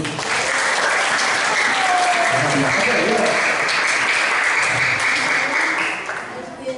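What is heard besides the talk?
audience applause for a student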